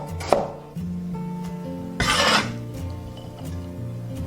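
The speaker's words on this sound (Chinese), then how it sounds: "生姜切片。" Fresh ginger is sliced on a cutting board with a kitchen knife: a sharp crisp cut, then a softer, longer scraping slice a moment later, close by over a steady low kitchen hum.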